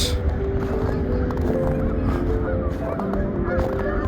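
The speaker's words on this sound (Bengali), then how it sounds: "এই একেবারে নিকটে নিয়ে আসলাম দেখুন দুইটা হাঁস" Waterfowl honk close by in snowy New York winter weather, with repeated nasal calls overlapping in a busy, continuous chorus.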